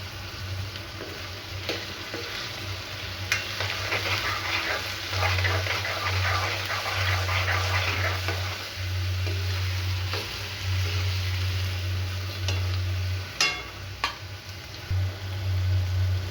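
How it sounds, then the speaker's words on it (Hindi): Tomato and raw mango sizzle while being stirred in a pan for kanda poha, with spoon clatter and a steady low hum. A dog barks faintly at times. "अब हम उसमें टमाटर डाल देंगे और कच्चा आम डाल देंगे और उसको भी अच्छे से मिक्स करके 1-2 मिनट के लिए पका लेंगे"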